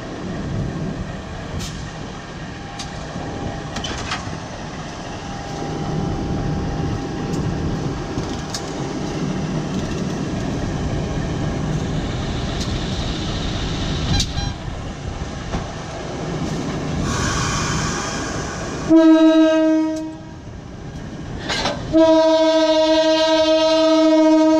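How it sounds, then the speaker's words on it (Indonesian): A locomotive shunts at Kutoarjo station, its engine rumbling steadily for most of the stretch before a loud, sustained horn blasts twice near the end, close by with no talk. "Ini persiapan langsir di stasiun Kutoarjo."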